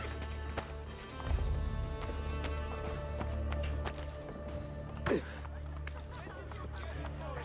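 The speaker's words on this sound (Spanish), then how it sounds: "Hostia, caballito." Horse hooves clip-clop in Assassin's Creed Brotherhood, a brief whinny rising over steady game music and ambience, with a heavier thump of hooves around the middle.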